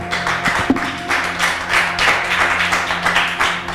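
A church congregation claps in steady, rhythmic bursts over a sustained musical tone.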